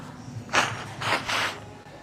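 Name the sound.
person blowing their nose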